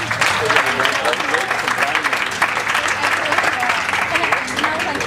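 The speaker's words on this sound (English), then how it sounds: "give yourselves a big round of applause" A crowd claps loudly and continuously, dense applause filling the room, with voices mixed in.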